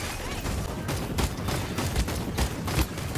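Rapid gunfire fills a match of the video game Paladins, a dense continuous rattle of shots with slight pulsing bursts, fairly loud throughout.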